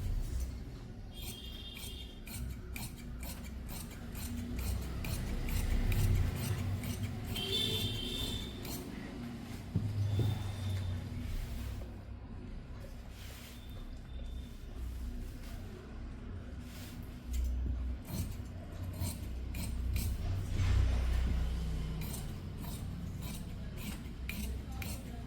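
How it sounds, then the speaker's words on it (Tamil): Scissors snip crosswise through canvas while a chudidar is being cut, giving a run of crisp metallic clicks and slicing strokes at close range, with faint talk at times. "இப்போ நான் ரெண்டுத்தையும் கட் பண்ணுறேன் பாருங்கள், கிராஸாக தான் கட் பண்ணுறேன்."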